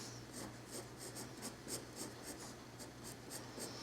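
A pencil scratches lightly across paper in short, repeated strokes, quiet and close, while a bird is sketched in colored pencil; a low steady hum sits underneath.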